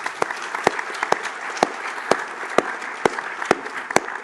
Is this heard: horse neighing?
no